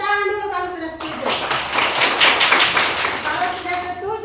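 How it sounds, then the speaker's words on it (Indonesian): Children in a classroom clapping their hands together in a dense, near burst of applause lasting a few seconds, with a voice speaking just before and as the clapping fades. "Tepuk tangan dulu kalau sudah setuju."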